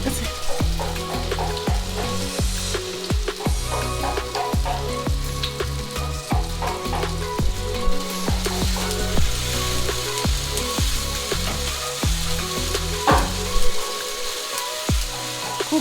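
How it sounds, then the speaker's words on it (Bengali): Prawn malai curry masala, a Bengali giant freshwater prawn dish with fresh cream and a pinch of sugar, sizzles and spatters in a pan as it is stirred, with repeated spoon scrapes and knocks cutting through a steady crackle. "খুব ভালো করে আমি মশলাটা কষিয়ে নিচ্ছি।"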